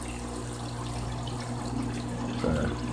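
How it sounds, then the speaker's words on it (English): Water from a koi pond's return pipe pours forcefully into the pond as a steady, broad splashing rush, close and continuous, with a brief louder surge near the end. "that return pipe, I don't know if y'all can see that. That's a lot of force coming down in that water."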